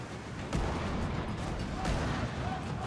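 Ship cannons firing in the naval video game Skull and Bones, heavy booming blasts with a deep rumble that keeps rolling, one sharp report near the start and another a bit over a second later, with a voice talking underneath.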